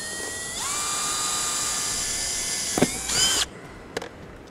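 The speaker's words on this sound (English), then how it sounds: "Take a 3/4 inch hole saw and we'll want to cut that out." Power drill spinning a 3/4 inch hole saw while cutting a hole during a tow brake system install: a high whining motor speeds up and runs steadily, then a few clunks and a brief grinding burst as it stops.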